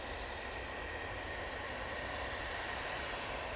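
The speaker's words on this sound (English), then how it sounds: "It's an Embraer Phenom 300." Broadband engine roar of an Embraer Phenom 300 business jet departing Manchester Airport for Oslo, a steady, even rumble and hiss throughout with no voices.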